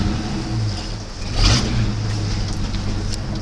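A Ford truck's engine rumbles steadily up close as it drives and reverses, with a brief rise in revs partway through and a low, even drone otherwise.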